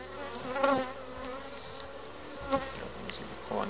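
Honeybees hum busily at an open beehive in a steppe apiary, a steady close buzzing with occasional louder swells as individual bees pass near.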